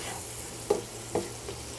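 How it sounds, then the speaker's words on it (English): Ground beef, 73-27, frying over medium heat in a pan with seasoning, a quiet steady sizzle broken by two or three soft scrapes of a utensil as it is stirred, close and faint. "Now mix it up real good."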